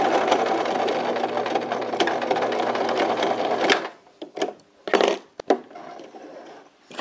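A sewing machine stitches a shirt-style checked coat in one loud, steady run of fast stitching, then stops and gives a few short, separate bursts of stitching with brief pauses between them.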